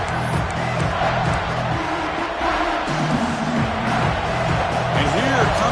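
Stadium crowd noise in a college football video game, Miami at Notre Dame: a constant roar of fans under an announcer's steady play-by-play commentary.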